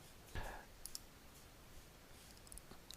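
A single computer mouse click, sharp and close, with a few faint ticks afterward in an otherwise quiet room.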